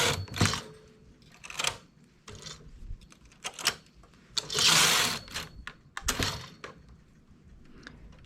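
Machine knitting of wool for a knitted cape: the carriage rattles and clacks across the needle bed in repeated close passes, with one longer sweeping rush midway.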